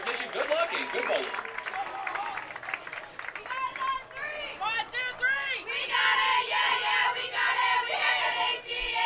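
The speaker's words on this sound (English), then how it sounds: "let's give these collegiate athletes a big round of applause" A crowd at a 2018 intercollegiate team bowling championship claps and cheers for the collegiate athletes, a dense, sustained wash of applause mixed with chatter and voices across the bowling center.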